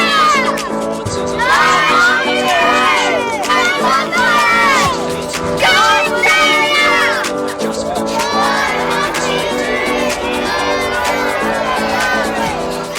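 A children's hockey team of young boys screams and cheers loudly in a dense, continuous burst of overlapping high shrieks and whoops, close by and sustained throughout.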